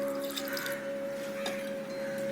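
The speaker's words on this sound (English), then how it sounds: "Now we'll add little water in this." Water trickles and splashes into ground dal batter for idli and dosa, a soft steady pour with a brief louder splash partway through, close by, under a constant electrical hum.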